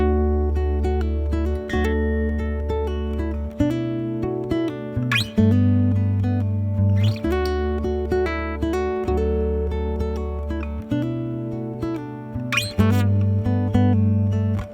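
PRS Hollowbody II guitar played through its piezo acoustic pickup, a steady run of clear strummed and picked chords with sustained low notes and bright string transients, close and continuous with no talking.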